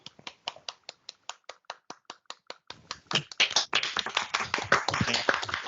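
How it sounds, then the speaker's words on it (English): Applause at an International Women's Day 2022 event, starting as a few sparse, evenly spaced claps close by, then swelling into fuller, denser clapping from a group of people. "Round of applause."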